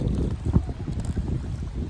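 Wind rushes against the microphone beside the Elk River on a sunny day, a steady close rumble with soft gusty swells and no speech.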